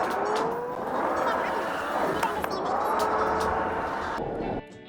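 Engine of an 80s-style rally car driven in the Automation game, a steady, loud motor drone with rising and falling pitch sweeps as it accelerates and shifts, cutting off abruptly near the end.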